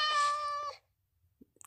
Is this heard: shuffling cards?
no